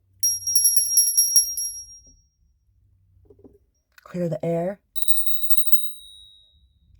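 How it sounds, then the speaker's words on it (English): A small hand bell rung twice, bright sustained ringing at the start and again near the end, with a short burst of speech between the rings. "I'm going to ring a bell."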